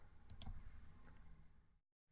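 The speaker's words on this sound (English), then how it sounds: "I'm clicking on the run module, or I can click on the F5 button on the keyboard" Computer mouse clicks while running a Python module, a couple of sharp close clicks over a faint background hum, ending in silence.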